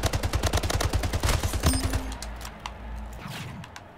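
Rapid automatic gunfire rings out in the arena shooter Splitgate, a close, loud burst of evenly spaced shots followed by a single sharp shot and a fading tail.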